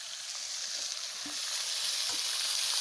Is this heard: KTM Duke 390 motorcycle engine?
no